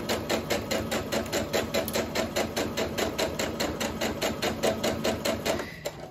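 Domestic sewing machine stitching a baby quilt seam, a fast, even mechanical needle rhythm running continuously and close, slowing slightly at the very end with no speech over it.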